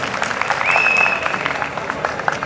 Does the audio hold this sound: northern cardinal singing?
no